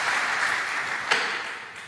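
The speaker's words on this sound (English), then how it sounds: "give her a round of applause" An audience claps together in a church service hall, a steady patter of many hands that holds evenly and then tapers slightly toward the end, with no talking over it.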